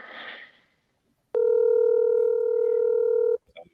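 A steady electronic telephone tone sounds for about two seconds, loud and close, after a brief burst of noise; then a faint click.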